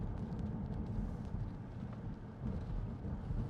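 Diesel engine of a 2016 BMW 530d M Sport Touring automatic pulling hard under acceleration from a hill-hold stop, a steady low rumble heard from inside the cabin with road and wind noise.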